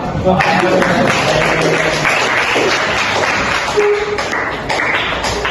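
A classroom of students claps their hands, a dense, loud patter that continues throughout with some scattered voices underneath.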